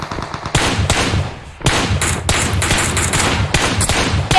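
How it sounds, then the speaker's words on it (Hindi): Gunfire in the mobile battle-royale game PUBG Mobile, rapid close bursts of shots in quick strings with a brief lull partway through, loud and with no talk. "कुछ शॉट आ रहे हैं।"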